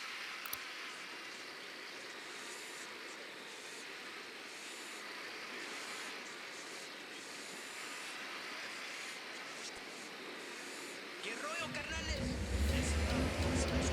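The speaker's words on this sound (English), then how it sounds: "Deploying drone." A drone deployed in the video game Ghost Recon Wildlands hums with a steady, even whirr, joined near the end by a louder, low rumbling burst.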